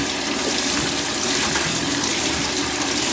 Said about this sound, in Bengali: এবার কিন্তু ভালো মতন করে ধুয়ে নেবো।